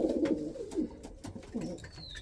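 A young pigeon coos close by, a few soft, low, throaty coos in a short uneven series.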